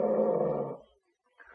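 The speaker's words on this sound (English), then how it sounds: "Now, growl, Bullet" A dog growls on command, a deep rumbling snarl lasting under a second, close and loud, followed by a short pause and a fainter rough vocal sound.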